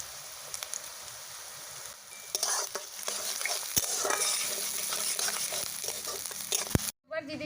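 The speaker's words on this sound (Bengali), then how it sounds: "সবথেকে প্রথমে তেলের মধ্যে দিয়ে দিচ্ছি আমি পেঁয়াজ কুচি, রসুন কুচি, দিয়ে দিচ্ছি আদা কুচি, আর দিয়ে দিচ্ছি কাঁচা লঙ্কা।" Chopped onion, garlic, ginger and green chilli hit hot oil for a dhaba-style dal tarka. A loud, close sizzle builds suddenly and crackles steadily with stirring scrapes, then cuts off briefly near the end.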